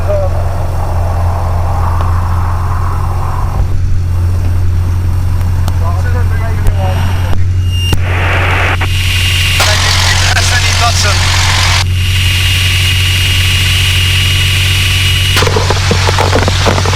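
A light aircraft engine warms up at about 1200 RPM with a steady, loud, low drone throughout, heard from inside the cockpit under ongoing talk and radio chatter.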